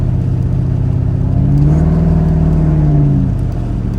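A Chevy car with an LSX engine and 3500 stall converter revs during a ride, a deep loud rumble that swells into a rising, harmonic-rich rev around the middle, then settles back, heard from inside the car.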